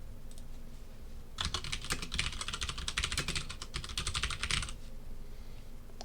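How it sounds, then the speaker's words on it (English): Rapid typing on a computer keyboard in a lecture setting, a dense run of soft clicks lasting about three seconds before trailing off, quiet and close, with no speech. "let's type this up"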